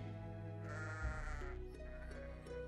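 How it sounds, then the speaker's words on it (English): Sheep bleat several times in a row with a wavering, nasal cry over a low drone and soft background music. "And here comes his daughter Rachel with the sheep"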